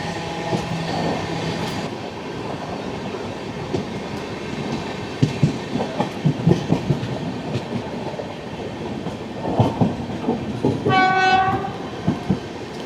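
The Okha to Ernakulam Express rolls into Ankleshwar station with steady rumbling and clattering wheels, scattered clanks, and a sharp horn blast near the end, heard from on board.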